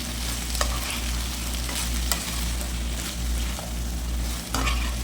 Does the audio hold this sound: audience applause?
no